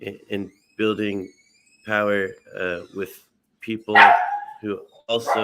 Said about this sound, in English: I'm so sorry that the dog's barking